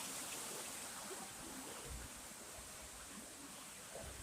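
Running water flows beneath a bridge at Disney's Wilderness Lodge, a steady broad hiss and rush that stays close and even throughout with no voices.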